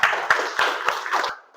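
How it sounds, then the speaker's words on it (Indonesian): A small group claps together in a classroom, about five firm, evenly spaced claps over a second and a half, close and fairly loud, then the room falls quiet. "tepuk tangan dulu"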